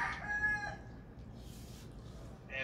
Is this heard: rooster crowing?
yes